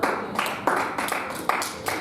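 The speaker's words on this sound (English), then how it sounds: "Clap your hands and celebrate God again." A church congregation claps along in a rhythmic pattern of sharp hand-clap bursts that repeat steadily over a couple of seconds, with no speech on top.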